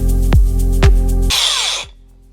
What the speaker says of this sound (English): So now I'm going to go in with the angle grinder and cut across the lines.